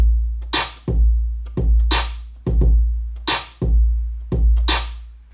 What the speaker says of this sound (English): so this is kind of the beat that I came up with.